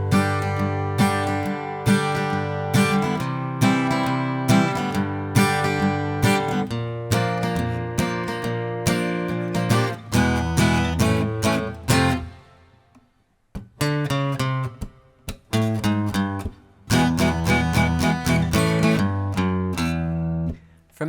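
Acoustic guitar playing the B section of a song, rhythmic strummed chords with short stabs and brief pauses, one near-silent gap midway, close and steady without talking.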